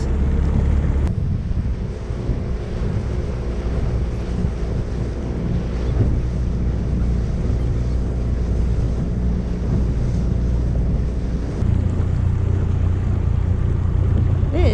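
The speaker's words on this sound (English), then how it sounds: "that's a big catamaran leaving the fuel docks" A large catamaran motors away from fuel docks in a St. Thomas harbour, its steady low engine drone running continuously under strong wind buffeting and lapping water, with no talk.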